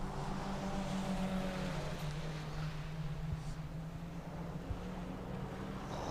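Rallycross Suzuki Swift cars racing at Mondello Park, a steady engine drone with a low tonal note held across the track, heard from a distance and mixed with wind noise.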